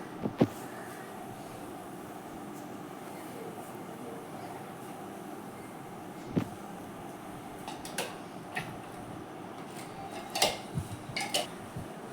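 A metal cooking pot being set down in a home kitchen before making biryani, giving a few soft, brief clanks against quiet background hiss, with no talking.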